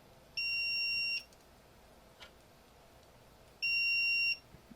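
A multimeter tests a large diode salvaged from a welder, giving two separate, clear high-pitched electronic beeps a few seconds apart against quiet background hiss.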